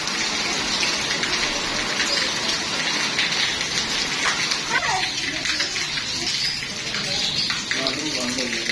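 Heavy rain pours in Jhelum city, a dense, constant hiss and splatter of water on surfaces, close and loud throughout, with children's voices and people talking over it.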